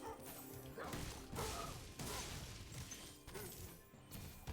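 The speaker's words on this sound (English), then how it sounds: "Alright, these dogs." Enemy dogs bark in the Spyro Reignited Trilogy video game: several sharp bark bursts and crashes sit over a dense, busy game soundtrack, with a short yip near the start.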